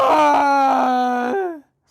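Someone narrator voices an imitation yawn: one drawn-out, groaning vocal tone of about a second and a half that slides downward in pitch and trails off into silence.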